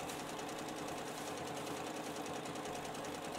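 Sewing machine free-motion quilting wishbone shapes on fabric, a faint, steady whirring hum with quick rhythmic needle pulses running continuously for a few seconds.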